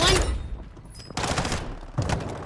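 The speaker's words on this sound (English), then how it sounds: "Oh, so they're shooting from above" Bursts of gunfire crackle in Call of Duty: Warzone as enemies shoot from above, a loud volley at the start, then two more dense bursts later, with faint game ambience between.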